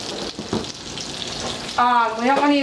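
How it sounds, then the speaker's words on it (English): Vegetable oil sizzles in a pan before pork chops go in, a close frying hiss with short crackles; a tonal sound like a voice or squeak rises over it near the end. "now we're going to take some vegetable oil and put it in the pan"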